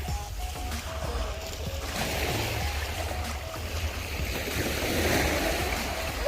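Waves at Ras Tanura beach in Saudi Arabia wash and roll steadily under constant wind, a broad, loud, unbroken surf wash with no clear breaks.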